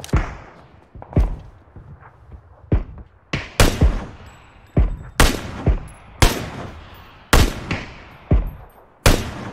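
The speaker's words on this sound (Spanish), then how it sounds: "De allá vienen balazos también" Gunfire in a first-person shooter video game: a steady series of sharp, loud single shots, roughly one per second, each with a booming decay, heard clearly with no talk over them.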